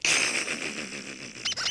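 A rubber ducky toy squeaks in a continuous, high, whistling squeal that fills the short stretch loudly and alone, with a couple of brief broken squeaks near the end.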